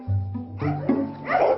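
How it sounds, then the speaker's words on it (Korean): A dog barks and yips at close range in a short burst of several loud, uneven calls, alone with no talking. "사납게 짖다가도"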